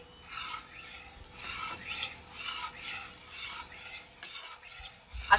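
A ladle rhythmically scrapes and stirs pav bhaji vegetables simmering with water in a home kitchen pot, a soft repeated rasping stroke pattern, close and fairly quiet, with no talk.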